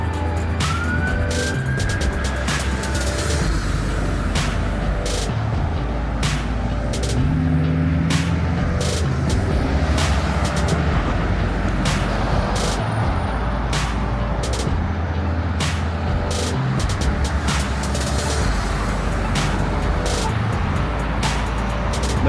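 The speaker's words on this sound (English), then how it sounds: "try not to get killed with these cars" Cars and buses pass along a busy Las Vegas street with a steady, loud roar of traffic. Rumbling engines and tyre noise sweep by close at hand, with brief rattles and clanks mixed in the whole way through.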